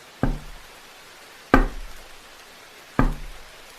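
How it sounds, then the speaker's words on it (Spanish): Three soft, hollow knocks on the wall behind a chair, spaced about a second and a half apart in an unusually still room after a storm, each a single clear rap fading quickly into quiet. "oí unos golpes muy suaves en la pared que había detrás de mi silla"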